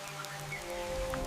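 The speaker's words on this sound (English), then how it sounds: "The rainy season in the rainforest brings an abundance of food." Rain falls steadily in a tropical rainforest during the rainy season, a dense, even patter of drops hissing across foliage with no voices.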